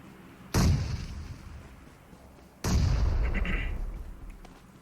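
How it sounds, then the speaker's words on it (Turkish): Two heavy grenade blasts go off in PUBG Mobile's heavy-weapons mode, a sharp boom followed about two seconds later by a second, louder explosion with a long rumbling tail. "bir tane bomba fırlattım"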